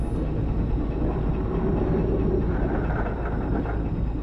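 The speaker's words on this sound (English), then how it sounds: "And there's the tram." Tram in the Resident Evil 2 PlayStation game rumbles steadily, a dense, low, continuous rolling drone with faint rattling that holds at a constant level throughout, with no other sounds on top.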